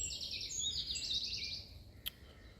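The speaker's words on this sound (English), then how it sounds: "Just listening to birds." Birds sing and chirp in bright, warbling phrases over a quiet background in the woods, with one short sharp call near the end.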